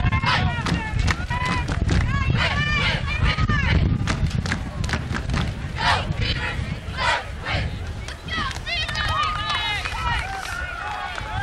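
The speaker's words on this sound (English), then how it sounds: "We got an excellent crowd on hand," A large crowd at a college football stadium roars and cheers in sustained waves, loud and close, with shouts and whistles rising out of the din; a voice talks over the noise.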